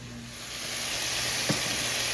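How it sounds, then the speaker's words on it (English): Beef browning in a pan for Ethiopian beef tibs, a steady close hiss of sizzling fat with one brief knock of the spoon as it is stirred. "So I'm gonna give this a stir and let my meat brown up."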